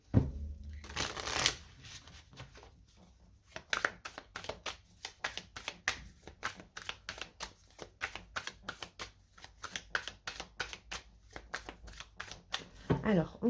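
Tarot cards being shuffled and cut by hand, a brief riffle followed by a long run of crisp, rhythmic card snaps and slaps, close and quiet, while someone speaks between them.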